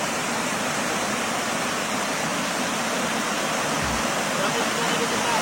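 Heavy water pouring over a dam where fish are falling, a steady close roar of rushing water with no break across the whole stretch.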